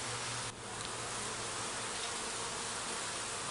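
Honeybees hum in a dense, continuous drone at a hive entrance, loud and close with a steady buzzing texture and no talking.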